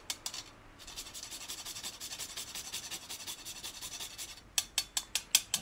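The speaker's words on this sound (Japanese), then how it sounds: "たっぷり削っていきます。" Whole nutmeg grated generously on a small grater for a Brussels sprout gratin, with steady close rasping strokes that end in a few sharper taps, and no talking.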